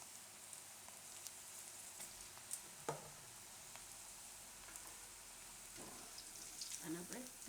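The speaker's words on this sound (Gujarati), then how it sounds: "અને આપણે આ રીતના તરી લેવાના." Mixed vegetable bhajiya fritters fry in hot oil on a gas stove, giving a quiet, continuous bubbling sizzle with occasional pops and faint stirring clinks near the end.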